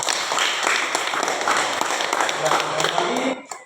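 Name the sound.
applause for group one in a classroom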